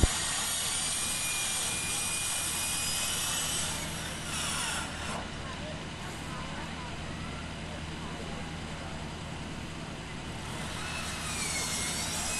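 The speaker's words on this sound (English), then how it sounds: "It appears that there's a helicopter flying around the area." A helicopter flies around overhead during a school district mass casualty incident exercise, giving a steady, fairly loud rotor and engine drone that holds for the whole stretch and shifts slightly midway as it passes.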